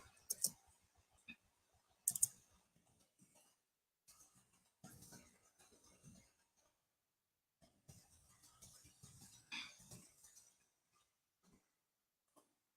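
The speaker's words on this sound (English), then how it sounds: "So we go in here and we just type" Keys clicking on a computer keyboard in short bursts, with irregular taps and brief pauses between clusters, fairly close and quiet with no talking.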